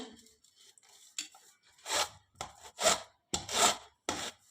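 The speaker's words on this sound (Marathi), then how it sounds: "आता आपल्याला या कैऱ्या या किसणीने किसून घ्यायच्या आहेत" Peeled raw green mangoes are grated on a thick kitchen grater, giving a series of close, rough rasping strokes that come as separate bursts and grow louder and more regular toward the end.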